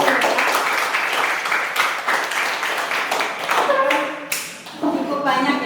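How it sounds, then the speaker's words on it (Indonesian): A classroom group claps for the first student team, a burst of scattered hand claps that swells and then tapers off, with children's voices mixed in. "tepuk tangan buat kelompok 1"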